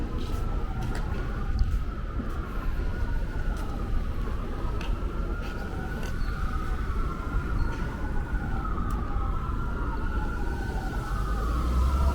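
An ambulance siren wails in slow rising and falling sweeps for several seconds, somewhat distant, over a constant rumble of street traffic on 17th Avenue in Bensonhurst, Brooklyn.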